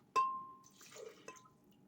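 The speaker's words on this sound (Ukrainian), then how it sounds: "Зараз нам треба додати фільтрованої води, пів склянки." Filtered water goes into a blender for a fruit and vegetable smoothie: a sharp glassy clink with a ringing tone, a short soft splash of liquid, then a second lighter clink, all quiet and close.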